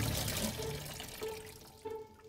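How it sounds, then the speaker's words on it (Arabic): Weak stream of water trickling from a kitchen faucet during drain cleaning, a soft continuous wash with faint splashes that rise and fall in a few brief surges, fairly close. "شايفين المي بتكون ضعيفة وهي تنزل"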